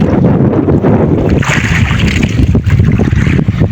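Strong wind buffeting the microphone over open sea from a fishing boat, a loud continuous rumble with splashing and rushing noise.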